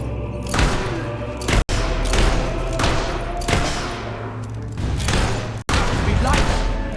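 Gunfire in the video game Fable 3 arrives as a steady run of heavy booming shots and thuds, loud and close, repeating about once a second over a dense, noisy background.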